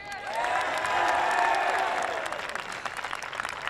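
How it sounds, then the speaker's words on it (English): A crowd at a boys high school lacrosse game bursts into sustained applause with scattered cheers, building quickly and then thinning into lighter clapping. "If we can get one more round of applause for Finny."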